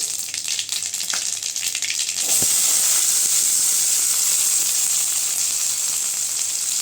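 Onion dropped into hot oil with popping mustard seeds in a pan while cooking a Tamil banana flower poriyal, a sudden loud sizzle that surges and then holds as a steady close hiss.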